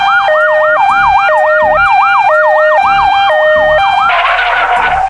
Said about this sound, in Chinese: 警察和救护车来了，我们回去吧。